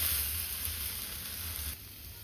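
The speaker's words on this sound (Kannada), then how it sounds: "ಅಲ್ಲಿವರೆಗೂ ನಾವು ಫ್ರೈ ಮಾಡ್ಕೊತಾನೆ ಇರಬೇಕು." Ladies finger (okra) frying in a pan, a steady close sizzle with low rumble that drops slightly in volume near the end.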